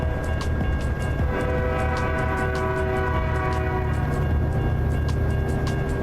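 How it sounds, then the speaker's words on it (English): A freight train rolls past in American Truck Simulator, a dense continuous rumble with steady metallic clicking and a sustained horn tone layered throughout, loud and near, with no talking. "comes the train"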